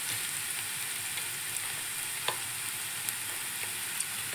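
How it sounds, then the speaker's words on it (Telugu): Steady, close sizzle of food frying in a pan until golden for a fish curry, a dense even hiss with a few soft crackles and light stirring taps scattered through, no voices. "కొద్దిగా ఫ్రై చేసుకుంటూ చూడండి, కొద్దిగా గోల్డ్ కలర్లో వచ్చేసింది."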